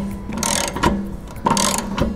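A wrench tightens a threaded drain plug into a water tank during de-winterizing, giving two short bursts of clicking, grinding ratchet-like turning with a brief pause between them, close and fairly quiet.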